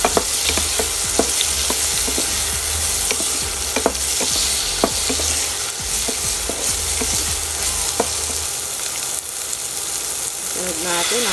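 Garlic and onion sauté in a pan for a sinigang with pink salmon belly, giving a loud steady sizzle broken by many sharp clicks and scrapes of a utensil stirring against the pan.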